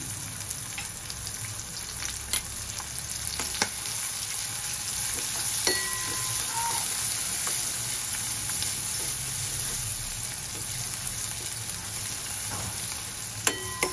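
Crushed garlic and green chillies sizzle steadily in oil in a pan for fenugreek bhaji, a close, even hiss broken by occasional spoon clinks and pops, with no voices.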